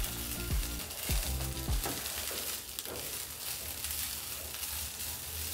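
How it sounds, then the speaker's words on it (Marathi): Rice roasting in ghee in a pan for sweet coconut rice, a steady close-up sizzle with soft scraping and stirring knocks near the start, no voices. "एक 2-3 मिनिटे आपल्याला हा थोडासा परतून घ्यायचा आहे तांदूळ"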